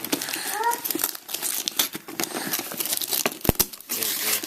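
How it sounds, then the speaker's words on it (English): Cellophane wrapping torn and crinkled off a Transformers toy Christmas present, a close, busy stretch of crackling and ripping with brief pauses and a voice chirping faintly in the background. "Got the cellophane off."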